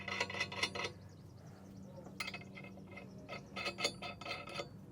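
A wrench tightens nylock nuts on a Curt TruTrack 2P weight distribution hitch, sounding as bursts of close metallic ratcheting clicks separated by short pauses, over a faint low hum.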